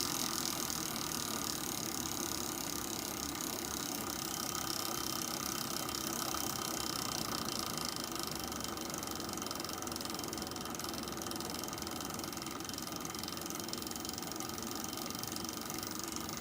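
A new ultra-low-RPM generator runs steadily, giving off a continuous mechanical whir with a faint ticking, ratchet-like texture and a steady hum, held at an even level throughout with no talking.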